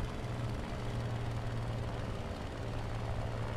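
An aircraft in a video game flight simulation drones steadily, a constant engine hum with a low rumble that holds throughout.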